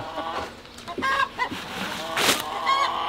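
Farmyard chickens cluck and squawk in several short close bursts near a pile of tomato scraps, with a couple of louder calls toward the end.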